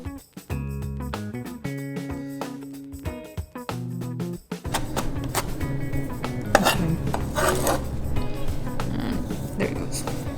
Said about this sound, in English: So what I do with the cilantro is I fold it like this, so I cut it faster.